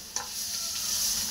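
Grated coconut fries and sizzles in a pan for cabbage coconut chutney, a steady hissing crackle with a brief stir of a spoon near the start, close and continuous with no talking.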